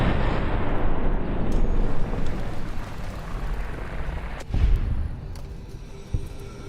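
Explosive ammunition shots and blasts in a video game roar as a loud, continuous rumble of booming impacts, with a couple of sharper cracks punching through near the end.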